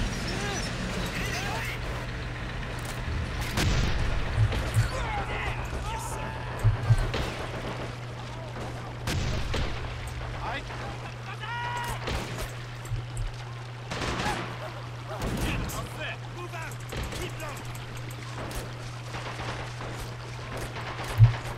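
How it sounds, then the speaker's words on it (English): Mortar blasts and scattered gunfire in the Men of War Assault Squad 2 multiplayer battle, sporadic sharp bangs over a low engine drone while someone talks throughout. "Come on, mortar, do something better than this."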